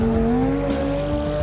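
A Lamborghini Gallardo SE V10 sports car engine wails at full throttle, a loud, sustained high-pitched howl with rising tone, close and alone.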